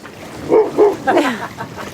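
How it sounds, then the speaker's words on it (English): A dog barks several times in quick succession aboard a boat, a cluster of close, fairly loud barks with short gaps between them. "Woof. Woof. Woof. Bark."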